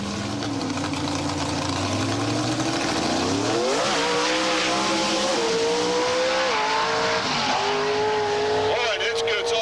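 A 1955 Chevrolet drag car makes a quarter-mile pass, its loud engine roaring steadily and then climbing sharply in pitch as it accelerates hard, with a commentator's voice running over the noise throughout.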